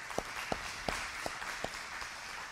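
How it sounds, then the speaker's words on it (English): A few evenly spaced claps, about five, sound near the mic for the team behind a weekly Torah study program, with a soft crowd hum between them. "Let's give them a round of applause."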